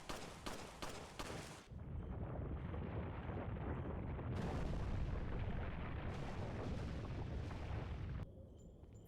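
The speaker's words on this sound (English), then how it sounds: "I just love the rate of fire of the blacktail here." The Blacktail handgun in Resident Evil 4 fires a quick volley of about six sharp shots, followed by a long, loud, rumbling roar that carries on for several seconds.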